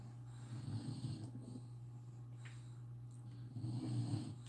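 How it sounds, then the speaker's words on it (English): Quiet, steady snoring with slow rhythmic rumbling breaths, a couple of snore cycles, low in level and close by. "Snoring has commenced."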